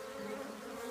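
Honey bees at a hive in Alaska give off a steady, close, continuous droning buzz with no other sounds and no breaks.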